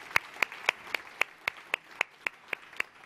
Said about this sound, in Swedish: Jag tycker att vi ger en varm applåd till panelerna som har varit vänliga att komma hit.